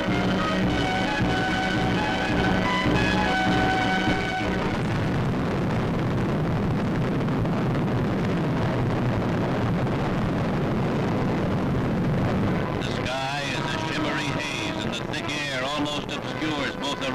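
Roar of the 360,000-pound-thrust Atlas rocket launching Carpenter's Aurora 7 mission, a loud sustained broadband rumble filling the whole stretch, with a narrator's voice running over it and a wavering tonal change near the end.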